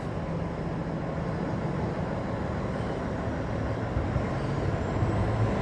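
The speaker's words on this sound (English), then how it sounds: "Please let this truck go." A loud truck passing on an Indianapolis street, a heavy continuous low engine rumble that holds steady and close for the whole stretch, with no talk over it.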